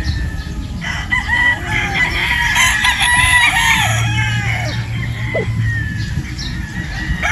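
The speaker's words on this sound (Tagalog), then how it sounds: "isa ding pure Boston Roundhead" A pure Boston Roundhead rooster crows close by, its cock-a-doodle-doo rising over a busy farmyard backdrop of other birds clucking and chirping.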